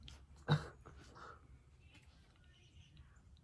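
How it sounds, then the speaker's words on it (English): A woman outdoors yells at her dog: one short, sharp shout rising briefly above faint room ambience, then quiet. "some lady yelling at her dog. You heard it?"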